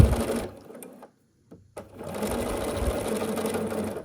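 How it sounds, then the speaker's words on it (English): A sewing machine stitches a 1/4 inch seam along the edge of quilt fabric, whirring in a close burst, stopping briefly, then running steadily again. "I'm sewing here along the edge, 1/4 inch seam allowance."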